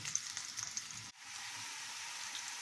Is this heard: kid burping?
no